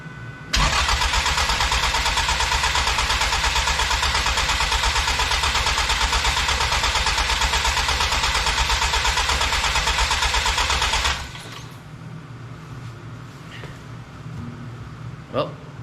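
Ecoboost-swapped DeLorean engine turning over and firing, a loud, steady mechanical drone sustained for about ten seconds before cutting out abruptly, leaving a quieter background with faint clicks.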